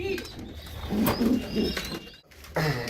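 Domestic pigeons coo in a few low, soft bursts at close range, with some background noise and faint chirps around them.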